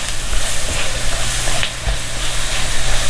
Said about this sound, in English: Saute that off.